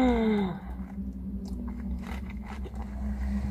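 Crunching bites into a crisp apple turnover pastry, a steady close chewing and crackling texture that follows a brief fading tone at the start, with no talking.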